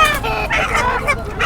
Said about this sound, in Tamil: என்ன சேவல் இது?